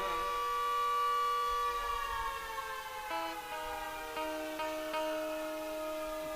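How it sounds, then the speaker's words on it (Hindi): A duty-time siren wails steadily with a high sustained tone that slowly drops in pitch, heard alone without talk. "ये सायरन भी सीख दे रहा है हो।"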